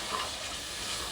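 A masala of crushed chilli and salt fries in a pan with a soft, steady sizzle and faint stirring, close and constant, with no voices.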